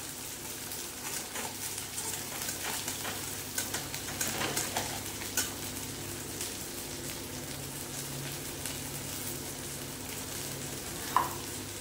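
Kashmiri chilli powder and turmeric sautéing in a pan, stirred with a soft, steady low sizzle and a few scrapes, fairly quiet and close, with no talking.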